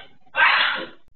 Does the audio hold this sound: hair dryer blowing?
no